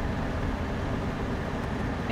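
A car outside in the Freddy Fazbear's Pizzeria Simulator video game, heard as a dense, steady low rumbling drone that fills the short stretch without letting up.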